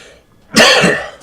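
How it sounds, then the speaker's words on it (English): A single harsh cough, close and fairly loud, breaking a quiet pause. "that was a cough."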